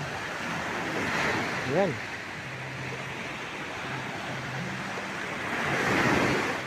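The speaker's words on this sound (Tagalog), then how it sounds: "So nandito po ako sa tabi ng aming beach." Surf washing onto a beach at night at a resort in Sariaya, Quezon, a steady broad roar of waves that swells near the end, with brief talk over it.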